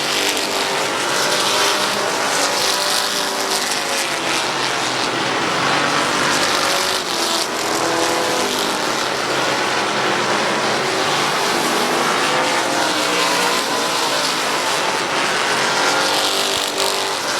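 Open street stock race cars roaring around the Midvale Speedway oval during a 30-lap race, engines loud and continuous at close range with a dense, layered, unbroken snarl for the whole stretch.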